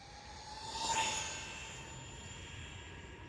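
An Arrma Granite BLX 3S RC car on a speed run, its high, thin electric whine rising as it approaches and passes, peaking briefly before fading out, faint and distant against a quiet background.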